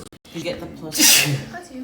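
A single sharp sneeze bursts out mid-conversation in a group gathering, loud and close, with people talking before and after it.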